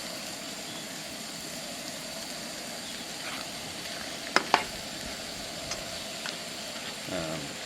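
Onion and tomatoes sizzle steadily in a frying pan, a constant low hiss broken by a couple of sharp clicks and a light clatter near the end, with no talking.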